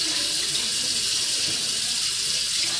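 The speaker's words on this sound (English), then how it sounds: "I'm going to rinse them down." Lower dentures are rinsed under a running tap, with a steady, close stream of water splashing into a sink for the whole stretch and no voices.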